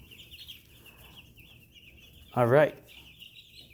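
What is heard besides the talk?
chickens clucking after a blizzard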